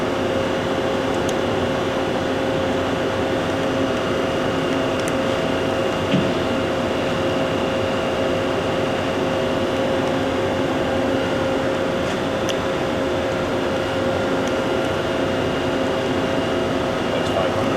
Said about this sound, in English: Now we're on the live tool that's mounted.